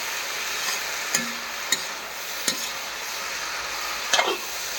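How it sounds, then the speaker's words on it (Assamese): Lentils and potatoes frying in a pan for a curry: a steady hiss of sizzling oil with four distinct spoon scrapes and clicks spaced through it, close by and without talk. "চব্জিটো ভাজি আছোঁ এতিয়া ধুনীয়াকৈ"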